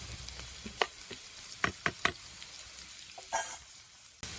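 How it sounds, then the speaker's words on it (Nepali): Onions fry in a pan for a Nepali small fish curry, a soft steady sizzle with a few sharp clinks and scrapes of stirring close by. "प्याज पाक्दैछ"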